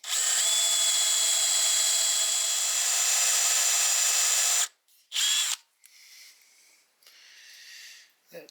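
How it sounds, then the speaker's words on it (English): A power drill bores a hole in metal on an old disc sander to fit a switch, running with a steady high whine for several seconds, then stopping and giving a few short, quieter bursts. "Start by drilling a hole."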